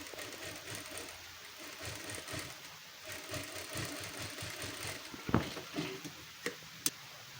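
A sewing machine stitching a double seam on a prince-cut blouse, with a steady fast mechanical whirr throughout, quiet and close, followed by a few sharp clicks near the end.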